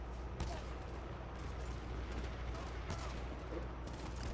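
Sharp bursts of gunfire in the first-person shooter Titanfall 2, several close cracks spread over a few seconds over a steady low battlefield rumble.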